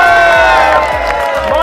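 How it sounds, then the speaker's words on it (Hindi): A crowd of people at a mystery box giveaway event cheers and whoops loudly together, with excited shouting voices filling the short burst. "भाई तालियां हो जाए एक बार बाबा के लिए।"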